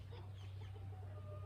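Meat chickens cluck softly and steadily in a coop, faint murmuring calls over a constant low electrical hum, with no talking.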